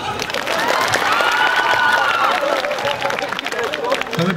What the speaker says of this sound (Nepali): अहिले केटीहरूले बजाइरहेछन् ताली